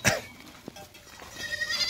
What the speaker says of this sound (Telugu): చూస్తున్నామండి మేకలు కూడా వచ్చేసినాయి.